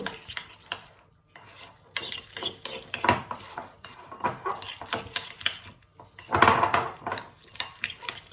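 Spoon stirring toasting seeds in a hot pan for bread, a close, busy run of rattling scrapes and clicks in uneven bursts with short pauses, faint sizzle underneath.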